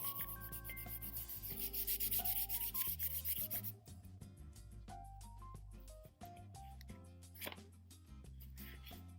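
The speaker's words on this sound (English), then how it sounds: "you can use just your finger and rub over the leaf" Fingers rub paper over a leaf to take a leaf print, a faint close scratchy rubbing in quick repeated strokes, quiet under soft background music.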